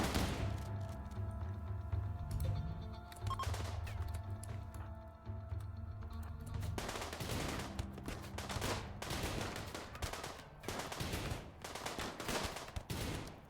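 Video game gunfire in a survival base-building session: bursts of shots from about 7 seconds onward, loud and repeated in rapid volleys, over a low droning background.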